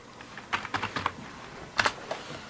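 Quick bursts of keystrokes on a computer keyboard while entering a command-line unzip command, two short clusters of clicks separated by a pause, close and fairly quiet.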